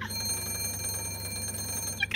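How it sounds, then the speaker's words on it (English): An in-game telephone in Minecraft rings continuously with a bright, steady electronic trill, close and alone. "You know how rude it is to leave a phone ringing?"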